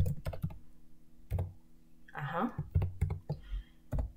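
Rapid, uneven clicks of computer-keyboard typing as Maya Python commands are entered, mixed under someone talking.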